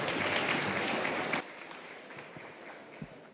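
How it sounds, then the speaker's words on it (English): An audience gives a short round of applause to welcome a panel at a museum-technology event, dense clapping for about a second and a half before it stops abruptly into quiet room noise. "So if you could join me in giving them a round of applause"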